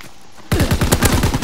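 Assault rifle fire in Call of Duty WWII multiplayer: after a brief quiet moment, a loud, rapid automatic burst rattles off in quick, evenly spaced shots.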